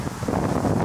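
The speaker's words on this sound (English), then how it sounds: "It's breezy, it's not cold but windy" Breezy countryside wind west of Edinburgh in Scotland, a steady low buffeting rush with gusty rumble across the microphone, continuous and fairly close throughout the short stretch.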